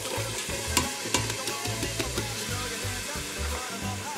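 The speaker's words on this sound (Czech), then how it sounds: "Do rozpáleného oleje nasypeme zeleninu" Chopped vegetables, including celery and carrot, tipped into hot olive oil in a pot on a stovetop, giving a steady close sizzle and frying crackle with scattered sharp pops and stirring clatter.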